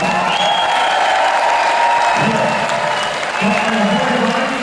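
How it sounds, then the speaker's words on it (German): A crowd at a MotoGP event at the Sachsenring applauds, steady clapping filling the space as a loud amplified voice talks over it throughout. "macht den mal einen richtigen Applaus hier"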